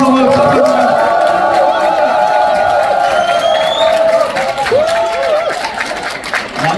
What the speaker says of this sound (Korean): 커다란 박수 함성을 부탁드립니다